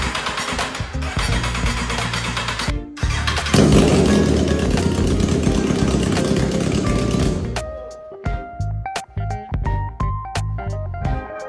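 A salvaged Kawasaki motorcycle bought from a scrapyard cranks and fires up, its engine roaring loudly and revving for several seconds, then cutting to choppy bursts of sputtering and clattering up close.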